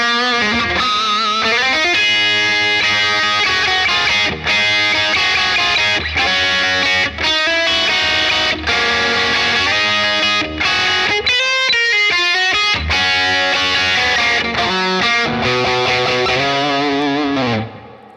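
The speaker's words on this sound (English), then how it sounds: "This is going to be our higher gain, like crunch distortion circuit" Electric guitar through a Bad Cat Black Cat combo amp on its high-gain crunch distortion channel, loud, thick chords and riffs ringing continuously with brief pauses, then a sustained final chord fading out at the end.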